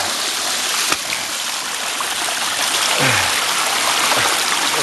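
Spring water flows along a stream in Devil's Den State Park in the Ozarks, a steady close rushing and splashing with gurgling trickles, continuous throughout.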